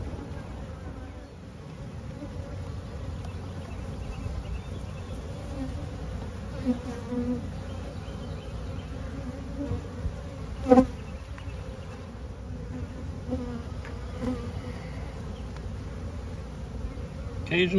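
A steady, dense buzzing of many honeybees around a hive close by, continuous throughout with a few brief louder passes.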